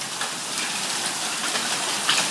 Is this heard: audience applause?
no